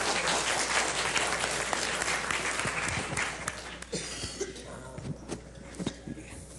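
An audience at a mathematics teachers' workshop session applauds: dense clapping that starts strong and thins into scattered claps toward the end.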